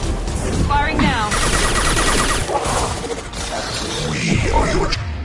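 Video game gunfire crackles in a steady, dense burst of fusillade over loud battle noise and effects, with voices talking throughout.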